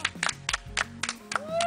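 Sparse handclaps come in separate bursts to welcome a guest at an open-air stage for a music interview show. A voice speaks between and over the claps.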